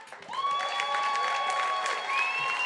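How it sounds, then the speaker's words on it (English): A comedy club audience claps steadily for a few seconds, with a sustained high tone ringing over the applause. "make a lot of noise for Latino Black"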